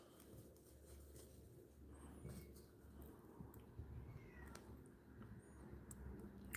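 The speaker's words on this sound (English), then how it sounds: "My son's cat has been vocal all day." A domestic cat meows indoors, faint and somewhat distant, with a few scattered calls over quiet room tone.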